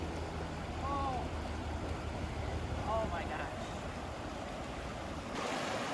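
A river runs steadily in Sedona, Arizona, its broad rushing wash continuous and close, with a few faint bird chirps over the flow.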